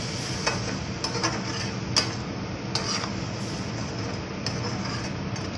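Boiled chickpeas tossed with spices in a pan over a flame, a steady sizzling bed with light scraping strokes of a spoon and a few small taps, close and continuous.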